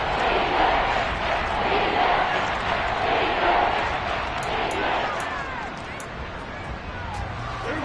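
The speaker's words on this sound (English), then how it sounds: "The crowd getting into it as we come up on a big 3rd down." A stadium crowd roars at an American football game ahead of a big third down in the fourth quarter, a loud, sustained, dense wash of cheering with a commentator talking over it.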